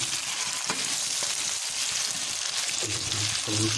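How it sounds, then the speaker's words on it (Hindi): Chicken sizzles steadily in a karahi pan for a charsi chicken karahi, with a dense, continuous frying hiss and a few brief stirring knocks toward the end. "थोड़ी देर तक फ्राई करते रहना है"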